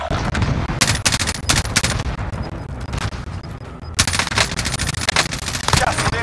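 Dense gunfire from Call of Duty Warzone gameplay rattles in repeated automatic bursts with booming impacts, continuous and loud throughout, with faint voice chat underneath.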